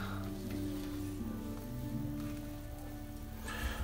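A boar-bristle shaving brush is swirled firmly over a hard Captain Fawcett shaving soap, giving a steady, close, scratchy swishing that runs continuously without talk.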